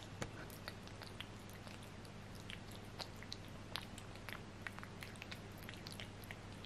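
A Ragdoll kitten eats its breakfast with quiet, rapid crunching and small chewing clicks that continue up close and alone over a faint background hum.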